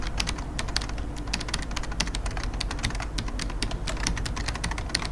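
Someone types quickly on a computer keyboard while building a whiteboard animation, producing a dense run of sharp, close key clicks in an irregular rhythm with no speech.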